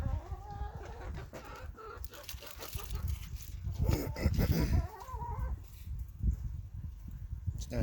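Backyard hens clucking and murmuring close by while eating a treat of lettuce, blueberries and red pepper flakes, with rustling and scratching throughout and a person speaking softly at times.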